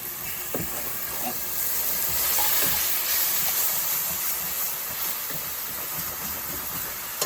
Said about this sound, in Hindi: अब मैं अनियन मैंने पीस लिए हैं, वो डाल रही हूँ